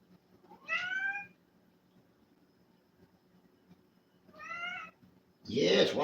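A cat meows three times, two clear, separate meows followed by a louder, harsher one close by, with quiet gaps between them.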